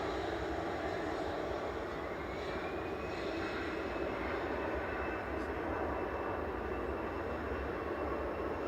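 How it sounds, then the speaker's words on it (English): An EasyJet Airbus A320 jet powers up for takeoff, a broad steady engine roar that sounds fairly distant and holds throughout. "Lined up, ready to go is EasyJet to Berlin, Airbus A320 GEZUI"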